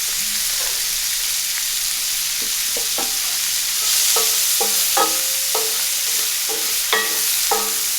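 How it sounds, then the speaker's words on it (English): Onions sauté in a tablespoon of butter in a pan over a gas burner, giving a steady close sizzle with scattered stirring scrapes and clinks. "I'm putting in a tablespoon of butter, along with my onions. I'm going to saute that for a couple minutes."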